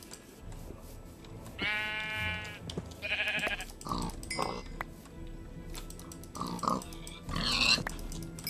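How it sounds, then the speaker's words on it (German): Sheep in the Minecraft video game bleat several times in short, nasal bursts, mixed with other game sound effects and background music. "Oh, Schafe. Tut mir leid, Schafe, ihr wirst sterben."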